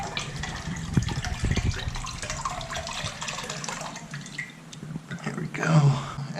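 Excess coolant is poured out of the overflow reservoir of a 2008-2019 Yamaha R6 motorcycle, a steady trickling, dripping stream of liquid heard up close with some handling noise.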